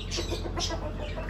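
A rooster clucks in short repeated bursts close by, over a low steady background hum.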